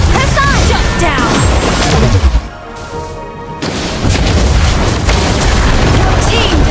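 Turret destroyed in Mobile Legends, heard as heavy booming explosions and crashing effects amid dense, loud game noise, with a short quieter gap in the middle.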